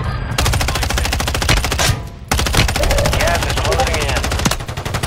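Rapid automatic gunfire in a first-person shooter video game, loud and close, sustained bursts with a brief pause in the middle, then firing resumes, with players' voices briefly audible in the mix.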